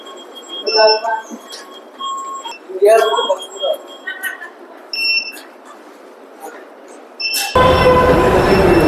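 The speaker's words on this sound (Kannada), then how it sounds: "ಸೊ ಫೈನಲಿ ಮೆಟ್ರೋ ಸ್ಟೇಷನ್ಗೆ ಬಂದಿದ್ದೀವಿ" A metro train arrives at a metro station: voices chat first, then a loud, close rushing roar of the train suddenly sweeps in and fills the last second.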